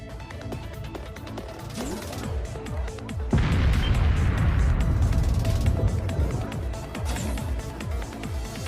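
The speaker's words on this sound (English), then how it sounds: "The railway cannons!" Heavy booming blasts and crashing railway cannon fire roll through a dense, loud soundscape in the video game Trails of Cold Steel III, building to a sustained roar midway.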